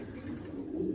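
Soft, low cooing of pigeons close by, a continuous murmuring coo with no other sounds.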